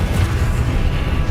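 A Confringo blasting spell explodes in Hogwarts Legacy, a steady, loud low rumble and boom that fills the whole short moment without a clear single attack.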